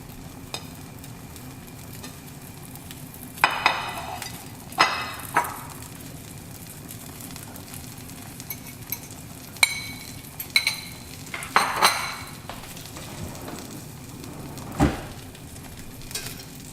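Egg for a smoked salmon omelette fries in a pan, a soft steady sizzle broken by several sharp scraping and clinking bursts as it is moved around, with no talking.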